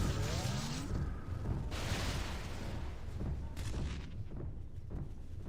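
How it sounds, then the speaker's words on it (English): Grenade launcher blasts boom across a battle in Kingdom Come Deliverance II, several heavy, rumbling explosions in quick succession with crackling debris, loud and close at first and then trailing off. "Oh wow, the range on those grenade launchers."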